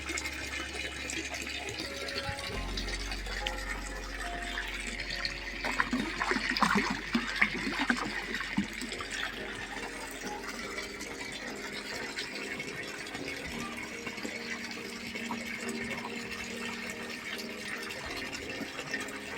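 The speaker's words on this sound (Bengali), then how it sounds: "নতুন জল দেওয়া হচ্ছে, পুরনো জল এই ট্যাঙ্ক থেকে" Water gushes steadily out of a high-density biofloc fish tank during a water change, a continuous even rush with some rattling, with no talking.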